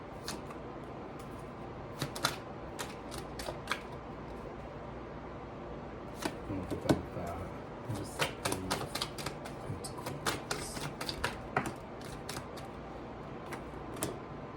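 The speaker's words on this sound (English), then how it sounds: "I'm gonna just get the cards out real quick." Tarot cards shuffled by hand, giving rapid, irregular crisp clicks and flicks in bursts over a faint steady background, with no talking.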